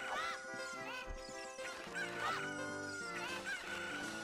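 Chicken clucking and squawking in the Zelda Master Quest video game, a run of repeated clucks with harmonic honk-like calls sounding fairly steadily over background game music, with no talk.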